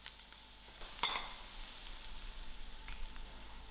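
A spicy fish roe mixture cooks with onions and masala in a pan, giving a soft, even sizzle with a single utensil clink near the start. The frying stays quiet and close, with no voices.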